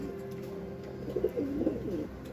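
A pigeon that went missing and flew back home coos nearby, a few low rolling calls rising over a steady background hum.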